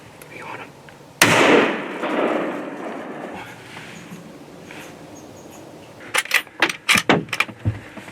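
During a mule deer buck hunt in Alberta, a single loud rifle shot cracks out, its echo rolling away over several seconds. Later come a few quick sharp clicks and rustles.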